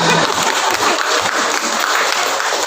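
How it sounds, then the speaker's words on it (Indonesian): Sustained applause for Bunda from workshop participants in a hall, a loud, even patter of many hands that continues for a couple of seconds without pause or speech. "Tepuk tangan untuk Bunda."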